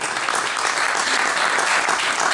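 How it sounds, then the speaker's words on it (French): Audience at a comics convention panel in Paris breaking into loud, dense applause, a close, continuous burst of clapping with no talk. "Je vous demandais d'applaudir, ça la mettra mal à l'aise."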